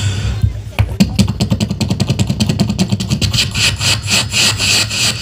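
A man imitates with his voice an old steam locomotive pulling into Sitapur station, producing loud rhythmic chuffing and hissing bursts that speed up and then settle, near the microphone and without words.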